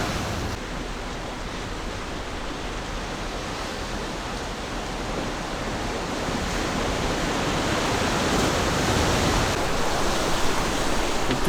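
Waves break steadily along the rocky volcanic shoreline of the East Sea coast at Yeongdeok, a continuous loud wash of surf that swells slightly louder toward the end, with no voices.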